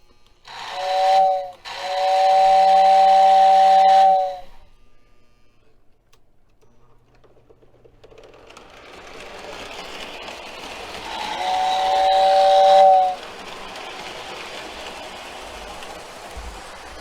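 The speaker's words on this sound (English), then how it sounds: "we're going to take her around the layout here once or twice, see how our whistle does" A Lionel 6466W model train tender's whistle sounds on a layout, two steady blasts in quick succession near the start, then the train rumbles on and a second long whistle blast rises over the running noise.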